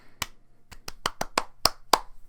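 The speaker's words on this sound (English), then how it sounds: "Those were not weak claps" Eight sharp hand claps ring out close and crisp, spaced unevenly over about two seconds against a quiet room with a faint low hum.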